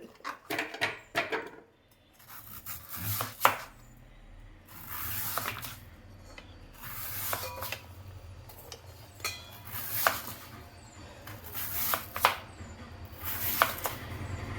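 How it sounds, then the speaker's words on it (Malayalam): A sharp kitchen knife chops a banana stem into rounds on a board, giving a series of crisp, close cuts in irregular clusters and brief pauses between them. "അങ്ങനെ വട്ടം വട്ടം അരിഞ്ഞിട്ട് വേണം നല്ല കത്തി എടുത്തിട്ട്"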